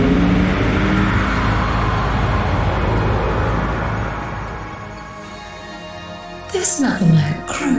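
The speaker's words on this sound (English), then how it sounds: "I'm also giving you this complimentary galaxy skipper by Anti-Engine" The Galaxy Skipper spaceship by Anti-Engine from The Artful Escape hums and whirs with a loud engine drone that slowly fades, then brighter sweeping whooshes rise and fall near the end.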